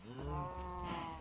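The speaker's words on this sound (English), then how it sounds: "Get down there, moo cow." A Minecraft cow gives a single close, clear moo lasting about a second, alone with no talk.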